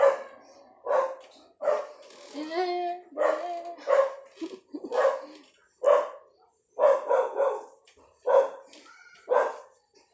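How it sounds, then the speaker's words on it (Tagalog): A dog barks repeatedly in short bursts, with yips and whimpering whines between them, fairly close and loud with no other sounds. "Ingay ng aso talaga."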